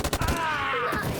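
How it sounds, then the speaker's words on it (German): Gunfire from the video game Detroit: Become Human, a dense burst of shots over roughly a second, fairly loud, with a groaning voice mixed in. "Die schießen uns einfach!"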